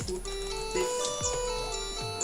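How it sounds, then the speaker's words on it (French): A phone ringtone with a Mario-style tune plays a sustained electronic melody of held tones and chiming notes, moderately loud indoors, with nobody talking over it. "Mettez un pouce bleu pour la sonnerie du téléphone qui est magnifique"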